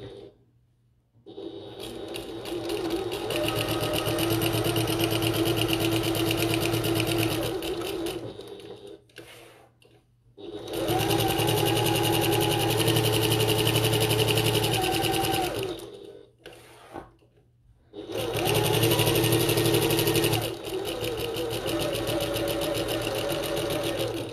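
A sewing machine stitches a pocket onto a bucket tote in three long, steady whirring runs, loud and close, each stopping briefly with small clicks between bursts.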